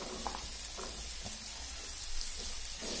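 Sweet potato pieces tipped into a hot kadhai of oil, a steady low sizzle of frying running throughout with a few soft scraping stirs, fairly quiet and close with no voices.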